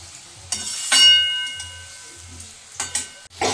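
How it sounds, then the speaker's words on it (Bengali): Potatoes frying in a pan after pointed gourd, a soft continuous sizzle punctuated by a few sharp metallic clinks and scrapes of stirring. "তো পটলটা ভাজা হয়ে যাওয়ার পর আলুটাও ভেজে নেওয়া হচ্ছে।"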